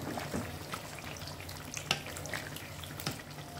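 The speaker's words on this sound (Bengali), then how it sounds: "এটা আমি ভালো করে নেড়ে দেব" A spoon stirs chicken curry in a pan after garam masala goes in, giving soft irregular scrapes and light clinks over a low sizzle.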